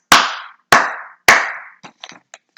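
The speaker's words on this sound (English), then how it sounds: "We clapped back 3 times." Three crisp hand claps in quick, steady succession, close and clear, followed by a few faint small taps and knocks.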